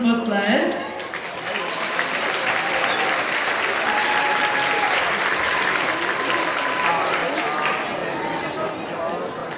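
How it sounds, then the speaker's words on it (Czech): A crowd applauds loudly and steadily, the clapping sustained throughout with a dense, continuous roar. "poprosím teda o velký potlesk"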